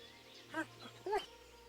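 Mutt, the player's dog in Kingdom Come: Deliverance, gives two short barks about half a second apart, moderately close and clear over a quiet background hum.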